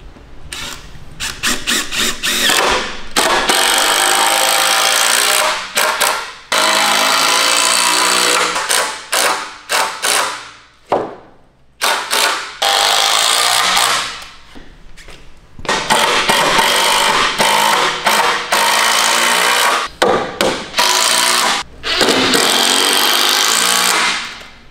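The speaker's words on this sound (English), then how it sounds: "I'm gonna do the top screws for each board on each side." A power drill drives screws into boards for an indoor putting green platform, whirring loudly in repeated long bursts, with short spurts and pauses between screws.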